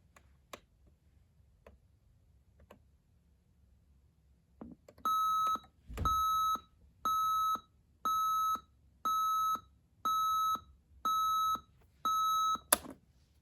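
A vintage alarm clock beeps in a steady repeating pattern, eight loud bursts of rapid beeping separated by short pauses, after a few quiet seconds.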